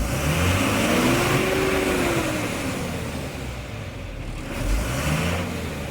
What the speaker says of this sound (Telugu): సౌండ్ చూడండి ఇంజన్ది